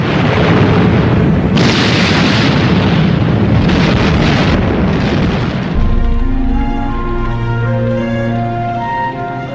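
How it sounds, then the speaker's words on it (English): Soviet T-34 tanks fire at point-blank range into German lines during World War II combat, with loud, dense booms and explosions rolling together. After about six seconds the blasts fade under swelling music. "The Soviet T-34s drove into the German lines and opened fire at point-blank range."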